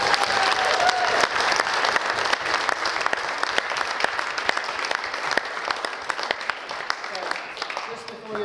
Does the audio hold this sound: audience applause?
yes